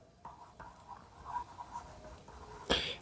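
Pen or marker writing out a class 9 math solution, heard as light scratchy strokes in short bursts across a quiet room, ending with a sharper tap or click.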